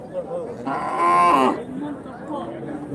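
A cow moos loudly and close by for about a second at a busy weekly Friday cattle and calf market in Kuntharapalli, Krishnagiri district, ahead of the Pongal festival, with low crowd murmur before and after.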